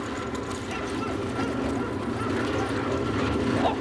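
Sled dogs in Alaska barking and yipping, a busy continuous chorus of excited dogs at moderate distance over steady outdoor background noise.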